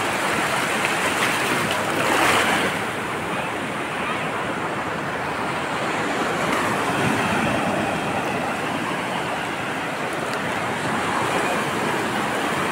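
A steady, loud roar of surf with big waves crashing continuously on Sabang Beach, Baler, Aurora, heard close by and filling the whole scene.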